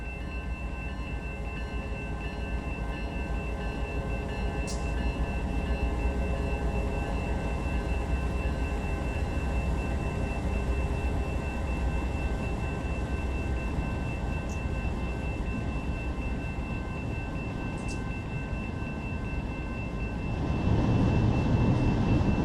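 A train rolls steadily down the last track at the end of a rail yard in a model-railroad switching layout, a continuous close rumble with faint squeals, growing slightly louder near the end.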